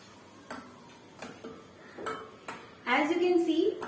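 A spoon scrapes and knocks against a cooking pot while vegetables and spices such as garam masala and salt are mixed, giving sharp clinks at irregular intervals. A louder scraping stir comes near the end.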